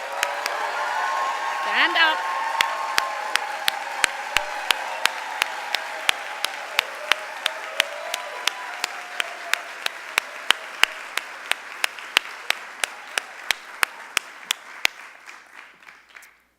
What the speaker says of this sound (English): give a warm round of applause and congratulate our Dean of Faculty